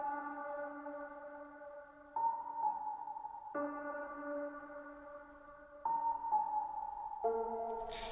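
A dark synth pad holds long sustained chords that shift every couple of seconds, washed in spacious reverb, moderately quiet with no voices.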